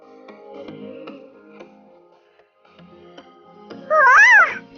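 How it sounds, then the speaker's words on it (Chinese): A cat gives one clear, loud rising-and-falling meow near the end, after soft rustling and clicking of flat plastic beads being handled for slime. "连猫咪都忍不住要来看看"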